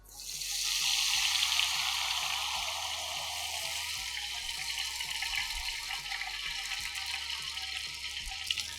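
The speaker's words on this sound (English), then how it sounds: "I'm going to start pouring the batter to this." Ghewar batter poured from a squeeze bottle into hot ghee, bursting into a loud frothy hiss and bubbling roar that swells quickly and then holds steady with faint rhythmic ticking, heard up close.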